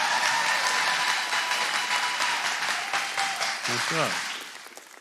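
Steady applause from a graduation audience fills the room, dense and sustained before thinning out, with a voice speaking briefly over it near the end.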